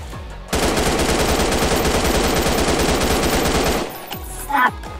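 Sustained automatic gunfire in the first-person shooter Friday Night Funkin FPS hammers out as a dense, loud, unbroken stream of rapid shots for several seconds, then cuts off abruptly, leaving a few faint scattered sounds.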